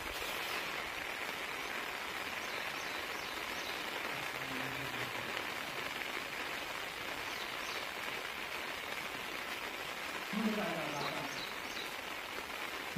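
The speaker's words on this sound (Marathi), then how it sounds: "पाऊस पण खूप जोरात चालू झाला आहे. आज सकाळपासूनच जोरात पाऊस आहे." Heavy rain pours steadily and fairly faintly throughout, a continuous even hiss of drops on the ground, with a couple of brief distant voice-like sounds partway through.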